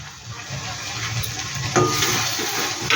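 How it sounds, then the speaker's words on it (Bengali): Ginger, garlic and green chili paste hits hot oil in a pan, a close, steady sizzle and spatter that swells partway through with a sharper hiss. "এটা একটু হালকা করে ভেজে নিচ্ছি"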